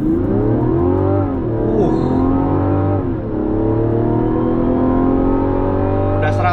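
A Mazda CX-60 accelerates hard from 0 to 100 km/h, its engine note climbing loudly through several gear changes with a brief dip at each shift, then sustained strong revving.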